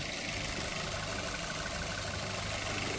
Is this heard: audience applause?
no